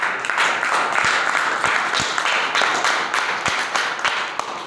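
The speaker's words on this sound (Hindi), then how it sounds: "बार जोरदार तालियां हो।" Loud, sustained applause fills a seminar hall, dense continuous clapping from a large audience with a few sharper claps standing out, no talk over it.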